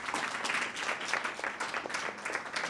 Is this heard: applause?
yes